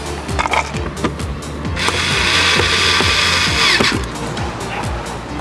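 A power drill drives screws into the bottom of a Toyota FJ Cruiser dash during an Android head unit install, a close whirring burst of about two seconds amid clicks and handling knocks.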